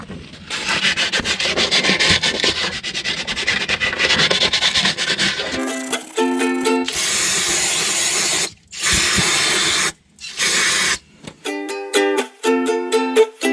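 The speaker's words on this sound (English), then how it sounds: "give the anti-roll bar itself a quick clean" Abrasive rubbing and scraping across the surface of an RV anti-roll bar, close and loud in long continuous strokes, then shorter bursts with brief pauses and ratcheting rasps, with no talking.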